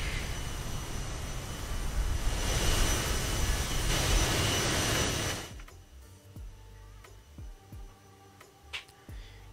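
CRJ regional jet engines spool up to full takeoff power in a flight simulator, a loud broadband jet roar that builds and holds, then drops away sharply, leaving a low hum and a few soft thumps.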